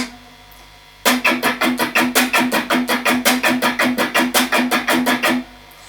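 A guitar picks fast, even sixteenth-note triplets, six to a beat, in a steady rapid run from the intro solo of a song, lasting about four seconds, then stops abruptly.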